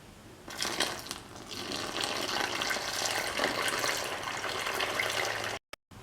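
Water pours steadily into a pan in a continuous splashing stream for several seconds, fairly close, then cuts off abruptly with brief silent gaps near the end.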